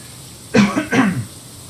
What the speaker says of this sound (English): Excuse the cough there